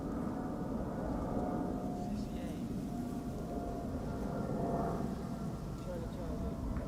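A China Cargo Airlines jet passes overhead near Amsterdam Schiphol's Polderbaan runway, a steady, faint, distant broadband roar with no talk over it.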